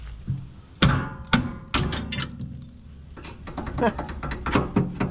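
Hammer blows on a punch drive a bolt out of a Camaro F-body's panhard bar during a fuel tank drop, three or four sharp metallic strikes spaced unevenly, with workshop clatter and some talk around them.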